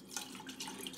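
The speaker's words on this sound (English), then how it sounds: "I'm going to take some chicken stock that I have" Chicken stock from a can pouring into a dish of ground beef and potato casserole, a short, steady close splashing trickle with no talking.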